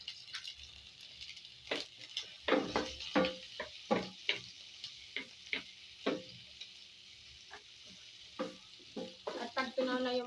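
Butter melting and sizzling in a frying pan during home cooking of chicken pastel, with a steady frying hiss and repeated stirring scrapes and clacks throughout.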